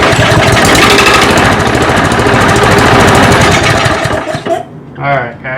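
A lawn mower engine running with the wrong blade fitted roars loudly and roughly with a rapid knocking pulse, then cuts out near the end, leaving a short stretch where a voice is briefly heard.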